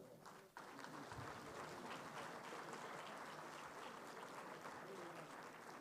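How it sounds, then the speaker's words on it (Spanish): Audience applause at the CADE 2026 opening cocktail event in Panama, a sudden swell of clapping that keeps up as a dense, steady roar of many hands, faint and heard from a distance. "Fuerte el aplauso para ellos"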